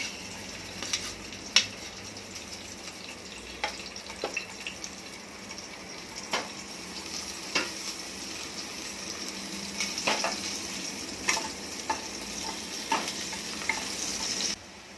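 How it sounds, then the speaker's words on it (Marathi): Garlic sautéing in hot oil in a pan, a soft steady sizzle broken by repeated sharp spatula scrapes and clicks at irregular intervals, close and fairly quiet, with no talking. "आता त्याच तेलामध्ये आपण हे हिरवी मिरची, लसूण आणि कांदा परतून घेऊया"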